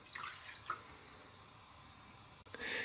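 Water is poured into a jar for pickled ramps, following cider and white vinegar, giving a short, faint trickle with a few splashy drips and a brief louder burst at the end.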